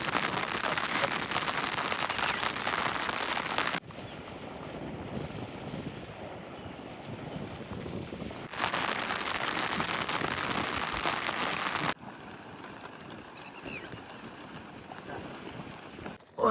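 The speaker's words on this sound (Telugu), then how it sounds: "ఇప్పుడే వర్షం అనేది స్టార్ట్ అయిందండి" Rain pours steadily at a night campsite, a dense hiss with wind buffeting the microphone, loud at first, then quieter and muffled in stretches, with no one speaking.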